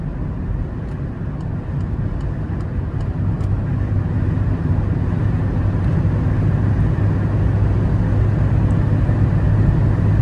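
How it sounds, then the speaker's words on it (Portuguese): Steady broadband wind rush inside a Peugeot 208 Style 1.0 2024 driving with the sunroof open, mixed with low road and engine hum, continuous and fairly loud throughout. "Ou a persiana, por isso tá fazendo um pouco mais barulho de vento."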